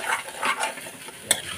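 Ground spices and garam masala frying in a pan on a gas stove for fish curry, a soft continuous sizzle with faint stirring scrapes and one sharp utensil knock near the end, no voices.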